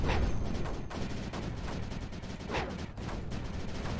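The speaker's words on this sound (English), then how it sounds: "I hear a lot of explosions" Explosions and gunfire in the Creeper World 4 video game, a dense, continuous crackle of bursts with sharper blasts standing out, moderately quiet in the mix.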